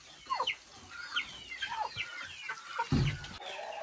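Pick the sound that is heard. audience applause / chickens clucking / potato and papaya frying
chickens clucking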